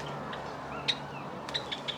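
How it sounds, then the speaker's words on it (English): Java sparrows at Chester Zoo's Monsoon Forest give a few short, high chirps, one near the start and a quick run of three toward the end, over steady ambient noise of a large indoor enclosure. "we got some Java sparrows."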